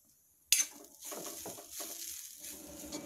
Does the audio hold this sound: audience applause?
no